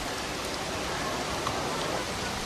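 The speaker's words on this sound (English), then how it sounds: "Every summer, the rain is so heavy, this low-lying city is flooded." Heavy monsoon rain pouring down on low-lying Mumbai, a dense, unbroken hiss of rainfall at steady loudness throughout.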